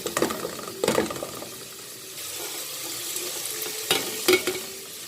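Onions and whole spices fry in a pot with a soft, steady sizzle, broken by a few sharp stirring scrapes and knocks of the spoon against the pot, no voices.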